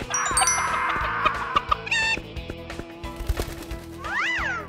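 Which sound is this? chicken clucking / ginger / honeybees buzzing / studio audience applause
chicken clucking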